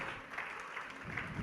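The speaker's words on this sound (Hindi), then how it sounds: "तालियां बजाकर अनुमोदना" A gathering at a Jain religious discourse breaks into brief applause, a short burst of soft, somewhat distant clapping with no voices over it.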